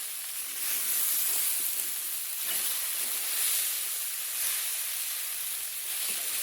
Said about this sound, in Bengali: দেখুন কি সুন্দর করে কষিয়ে নিচ্ছি আমরা, আপনারাও খুব ভালো করে কষিয়ে নেবেন